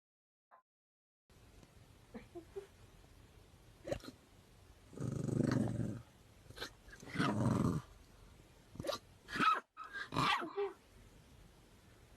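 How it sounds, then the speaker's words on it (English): A puppy with hiccups gives short gruff barks and growly huffs, close and moderately loud, coming in irregular bursts separated by small hiccup-like clicks and quiet gaps. "Puppy barking at his own hiccups."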